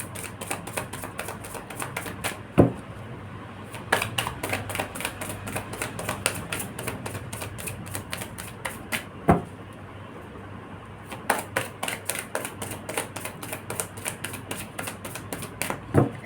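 Tarot cards being shuffled, a long run of rapid crisp riffling clicks in quick bursts broken by short pauses and a few sharper snaps, close and fairly quiet with no talking.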